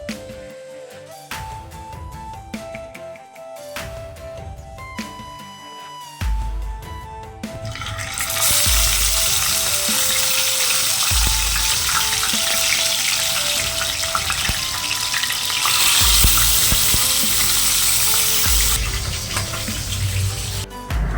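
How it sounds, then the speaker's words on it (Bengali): Soft sankara fish frying slowly in hot oil in a kadai: after a stretch of background music, a loud, dense sizzle rises and holds steady to the end. "এখন মাছগুলো আস্তে আস্তে করে ভেজে নেব।"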